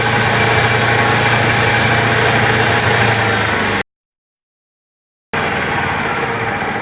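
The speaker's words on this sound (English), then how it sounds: "I usually do not run my lathe that fast" A wood lathe spins fast while turning sleeper wood, giving a steady loud mechanical hum and whir that cuts out abruptly for over a second and then resumes.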